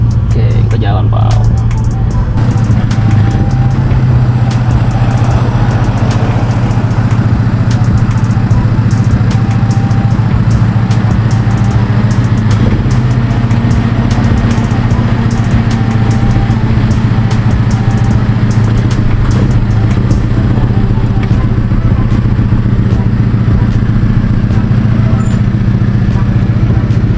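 A 2005 BMW E90 320i drives along with a steady low engine drone and road noise from inside the cabin, constant and fairly loud, while people talk over it.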